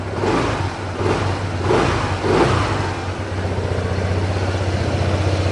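An Indonesian-spec Honda ADV160 scooter engine revs up several times in quick surges close by, then settles into a steady idle drone.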